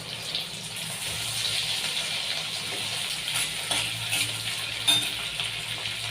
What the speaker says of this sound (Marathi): आणि ही तेलामध्ये दोन ते तीन मिनटं परतून घ्यायची आहेत